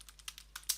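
Light, rapid clicking of computer keyboard keys while a comment is typed, fairly quiet and close, with uneven taps that pick up slightly toward the end.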